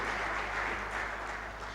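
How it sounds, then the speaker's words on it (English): Dense, continuous audience applause at an alternative investments conference, a loud, even wash of clapping filling the short stretch without pause. "Ladies and gentlemen, a huge hand clap for Mr. Joshua."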